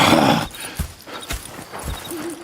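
Horses in the Red Dead Redemption 2 video game: a few soft, spaced hoof thuds and light clops follow a brief burst of noise, with a short snort or whinny near the end, fairly close and without speech.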